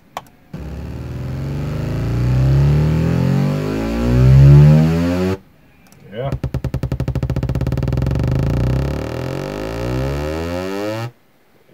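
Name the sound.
car exhaust sound effect from a sample pack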